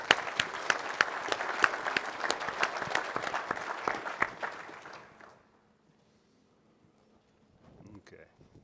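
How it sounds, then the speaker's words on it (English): Audience applause for speakers at an offshore wind energy panel session, a crowd clapping steadily for about five seconds before fading out to near silence, with faint voices at the end. "why don't we give a big round of applause to all the speakers here."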